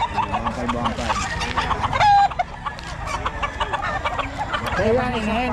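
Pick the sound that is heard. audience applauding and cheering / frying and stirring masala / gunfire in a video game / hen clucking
hen clucking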